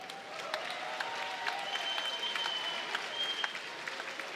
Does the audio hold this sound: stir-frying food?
no